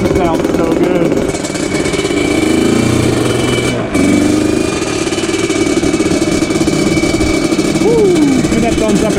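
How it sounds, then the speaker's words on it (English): A Yamaha Banshee ATV engine runs loud and close, holding a steady buzzing idle with small shifts in pitch and a brief rev near the end. "Give that thumbs up if you like the sound of Banshee"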